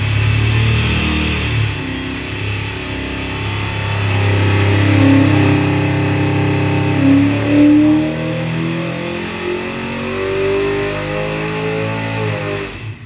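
A 561-horsepower small-block Mopar engine with twin carburetors revs and holds at high rpm, a loud, close, sustained roar that rises and falls over thirteen seconds, with no talk.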